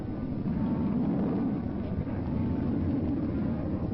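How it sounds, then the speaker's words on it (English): Roar of the Bell X-2 rocket-powered supersonic research aircraft landing, a steady loud low rumble with wind-like rush held at constant strength throughout, no voices. "This is not a jet aircraft landing. It is rocket power, a flying laboratory built for supersonic flight."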